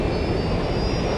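A plane's engine drones in the video game Watch Dogs Legion as a steady, loud, continuous roar with a faint high whine on top.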